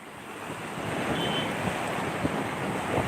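Rough sea waves at Gumaca, Quezon roll and wash in a steady, dense roar, with wind buffeting the microphone throughout and no clear breaks between surges.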